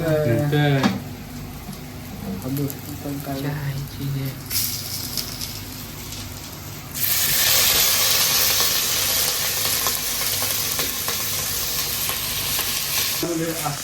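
Onion tossed into a hot pan for veg khichdi, sizzling and frying loudly, the hiss jumping in strength partway through and continuing steadily while people talk over it nearby.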